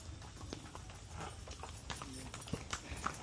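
Horse hooves clip-clop along a mountain path in Laguna, a steady patter of close, irregular steps that sharpen into a few louder strikes near the end, over faint outdoor background.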